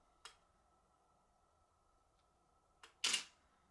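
A camera settings dial gives a few sharp clicks in a quiet room: one single click, then after a pause a quick pair, with the last click louder and closer.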